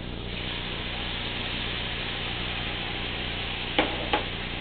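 Sausage and onions simmer in about half a cup of beef broth, giving a steady soft bubbling hiss with a couple of faint stirring taps near the end.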